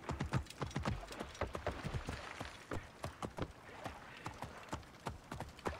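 Horse hooves clip-clopping at a steady gallop in Assassin's Creed Origins, a quick run of sharp, close hoofbeats alone over faint coastal ambience.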